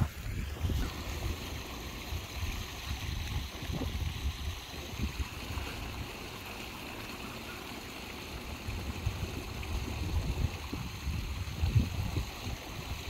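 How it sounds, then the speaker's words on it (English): Wind buffets the microphone in a steady low rumble with occasional gusts, outdoors near open water. "Sorry about the wind."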